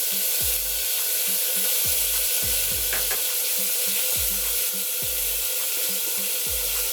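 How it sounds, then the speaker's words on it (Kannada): Chopped tomatoes tossed into a sambar pan sizzle continuously, while a spoon knocks and scrapes against the pan in a regular rhythm of repeated stirring strokes. "ಇಲ್ಲಿ ಟೊಮೊಟೊನ ಹೆಚ್ಚಿಟ್ಕೊಂಡಿದ್ದೀನಿ ಇದನ್ನು ಕೂಡ ಹಾಕ್ತಾ ಇದ್ದೀನಿ"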